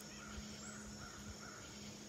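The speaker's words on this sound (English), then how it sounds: "the crows are out in force too" Several crows cawing outdoors, faint and distant, a few separate harsh calls spaced through the moment over a low steady background hum.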